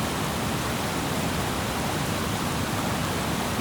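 Fast-flowing river water at Don Khone rushes in a dense, unbroken roar, loud and close, with no pauses or voices.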